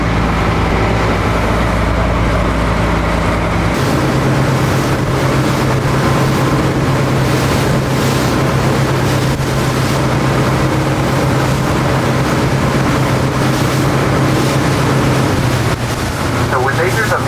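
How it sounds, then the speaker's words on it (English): A loud motorboat engine drones steadily throughout a whale-watching trip at sea, mixed with heavy wind buffeting the microphone and continuous rushing noise, with no clear speech. "So when they hear the boat coming"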